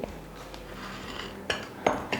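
Cooked, chopped chicken and spring onion go into a dish with light clinks and knocks of utensils and crockery, a few sharper taps near the end, close and fairly quiet with no talking.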